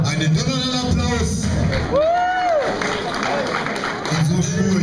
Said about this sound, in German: Und nochmal jetzt für das Moorgirl einen donnernden Applaus.